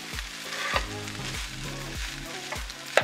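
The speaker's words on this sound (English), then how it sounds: "I'm just folding in the sausage and the veggies" Steamed rice with sausage and vegetables being folded and stirred in a hot pan for dirty rice, a soft continuous sizzle broken by regular scraping spoon strokes, close by and with no talking.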